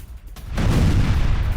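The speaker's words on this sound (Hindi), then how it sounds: "तो ये देखिए, माइन से यूक्रेनी सैन्य वाहन को तबाह किया गया है।" A landmine blast destroys a Ukrainian military vehicle on the front line, heard as a sudden loud burst that rolls straight into a heavy, sustained rumble.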